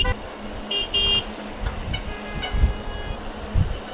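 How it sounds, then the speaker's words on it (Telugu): A vehicle horn honks several times in short bursts on a highway, close and fairly loud, with traffic noise between the blasts. "ఇప్పుడు రమ్మని హార్న్ కొట్టాడు అన్నిసార్లు"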